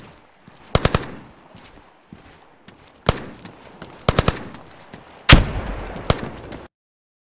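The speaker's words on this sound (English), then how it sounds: "You notice how the grenade is it really stands out of this mix." ArmA 3 game combat: short bursts of automatic gunfire crack out several times, then a heavy grenade blast booms out louder than the rest and rumbles away before the sound cuts to silence.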